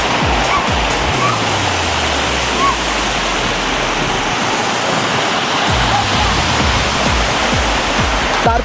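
Ghogata waterfall gushes with a loud, steady roar of rushing water that fills the whole scene without a break.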